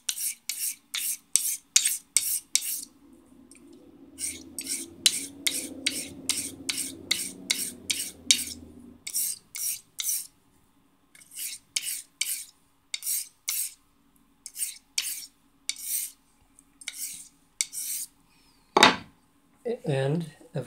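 A Henckels knife of hard steel has its bevel set on a DMT 600 diamond plate, rhythmic close rasping strokes in regular bursts with brief pauses, a softer scraping stretch midway and a clink near the end.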